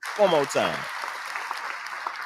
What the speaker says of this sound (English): Did you play the claps again?